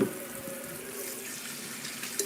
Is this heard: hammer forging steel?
no